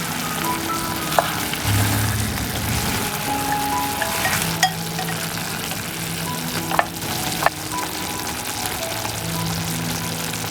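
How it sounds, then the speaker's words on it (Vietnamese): Snakehead fish braising in a clay pot without water, sizzling and frying steadily throughout with a dense crackle, a few sharp clinks of utensil against pot standing out. "đầu tiên thì mình sẽ kho cá không nước khoảng từ 5 đến 7 phút"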